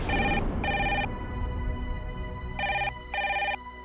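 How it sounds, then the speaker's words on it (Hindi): A telephone rings in two bursts of double electronic trills, loud and close, with a gap of quiet between the pairs and no talk. "पापा जी का फोन होगा, उठा जल्दी।"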